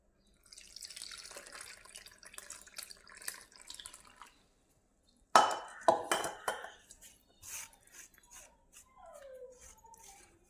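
Jaggery syrup is poured through a strainer: faint trickling at first, then a short louder splashing pour and lighter drips and clinks from the vessel.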